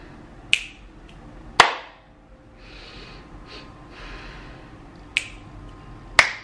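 Finger snaps crack out sharply and close, four crisp isolated snaps at uneven intervals, with soft breathing sounds in the quiet gaps between them.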